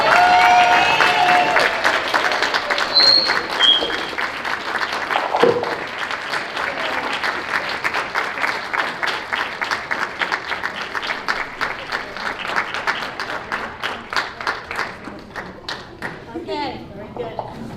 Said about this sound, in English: please give a warm, warm welcome and a huge round of applause to the author of the hour